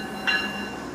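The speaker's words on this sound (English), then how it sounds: "Boarding an Amtrak train" An Amtrak passenger train gives a steady rumbling rail noise with a short tonal squeal rising briefly out of it, heard without talk.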